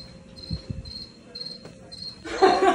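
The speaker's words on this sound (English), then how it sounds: "I'm looking for my flashlight so I can find this cricket." A single cricket chirps indoors in steady short pulses, fairly close, while low knocks and shuffling noises pass underneath and a louder rustle comes in at the end.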